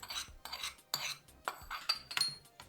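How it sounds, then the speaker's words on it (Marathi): A spoon stirs a dahi mirchi mixture of yogurt, chillies, sugar, salt, coriander and cooled tempering, giving rhythmic metallic clinks and scrapes against the bowl, close and crisp, with no talk. "आणि हे छान ढवळून घ्यायचं"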